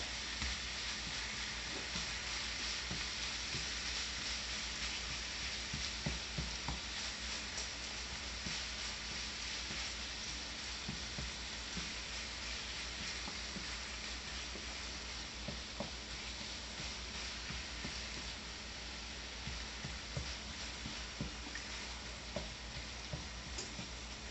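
Stuffing filling for stuffed peppers browns in a pan with a constant close crackling sizzle, dotted with small pops and scrapes of stirring, with no talking.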